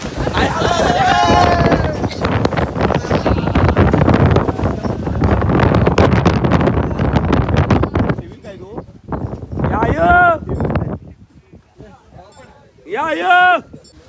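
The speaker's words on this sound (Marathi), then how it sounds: "अरे काय हवा" Strong wind buffets the microphone in loud, roaring gusts that ease off partway, while people talk and call out over it at a hilltop fort campsite with tents in the morning.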